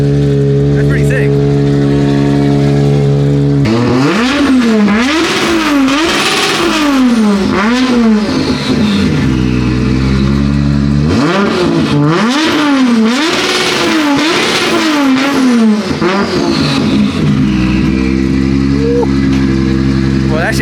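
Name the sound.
1000HP Corvette engine revving, sounding like a rotary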